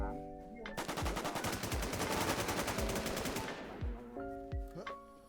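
Rapid automatic gunfire from the video game Infestation rattles in loud, sustained bursts, with a short pause at the start and sharp single shots trailing off near the end.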